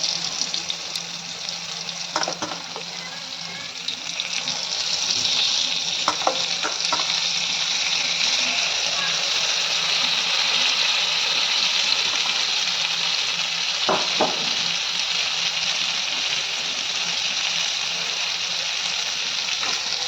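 Eggplant slices coated in egg fry in a kadai, giving a loud, even sizzle that hisses on for the whole stretch, broken by a few faint taps of a utensil.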